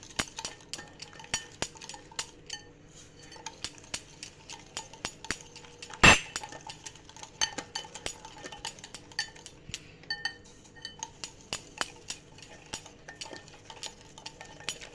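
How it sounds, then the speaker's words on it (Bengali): A utensil stirs semolina batter in a bowl, producing quiet repeated clinks and taps against the bowl with one sharp louder knock midway, close and alone without talk. "এভাবে অল্প অল্প করে দেবে আর মেশাতে থাকবে"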